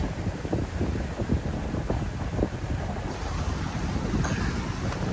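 A sailboat under sail at about 7 knots in good weather, with steady wind rushing over the microphone and water washing and splashing along the hull, a continuous close roar without talk.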